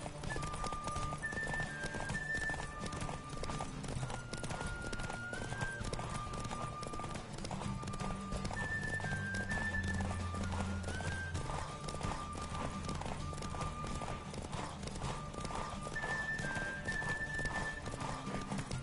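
Rhythmic hoofbeats of a galloping horse with occasional neighs, steady and loud throughout, layered over a continuous game music score.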